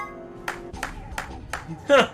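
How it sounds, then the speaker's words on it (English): Short game sound of hands clapping in Zero Escape: Virtue's Last Reward, a few quick separate claps over soft background music, ending with a brighter chime-like accent. "You clapped your hands, right?"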